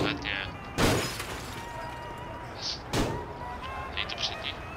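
In the Mafia video game, glass breaks twice with loud sharp crashes about two seconds apart, each a bright burst over a constant low background drone, with small clinks and debris between them.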